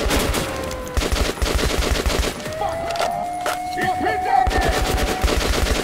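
Sustained automatic gunfire and bursts of shots in the video game Metro Last Light Redux, loud and continuous, with rapid repeated cracks layered over game effects.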